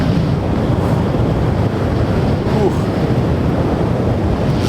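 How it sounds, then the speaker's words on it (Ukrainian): Strong wind on a high mountain top roars and buffets against the microphone in a dense, steady rush, loud and unbroken for the whole stretch. "Я заліз ще на одну гору. Тут вітер ще гірший."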